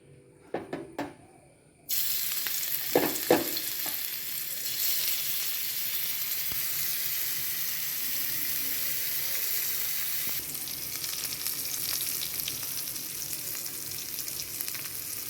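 Dried fish frying in a pan gives off a steady, loud sizzle that starts abruptly after a few faint clicks and knocks, then continues evenly with occasional crackles.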